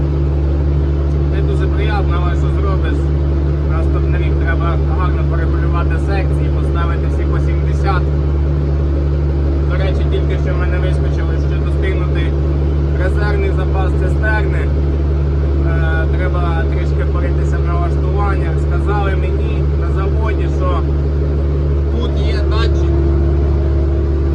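Tractor-drawn field sprayer working a sunflower field, a loud steady engine drone with a constant low hum throughout, while someone talks over it from inside the cab.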